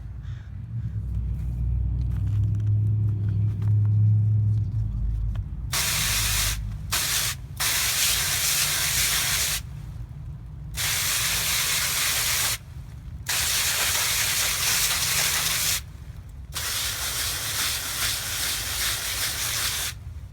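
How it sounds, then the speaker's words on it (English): Bursts of hissing water spray hit the undersides of garden plant leaves to knock off aphids, starting and stopping repeatedly, a close, steady rushing sound with short pauses between sprays, following a quieter low rumble at the start. "spray some water on the underside of the leaves to mechanically remove the aphids"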